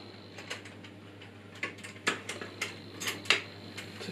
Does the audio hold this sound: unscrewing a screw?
yes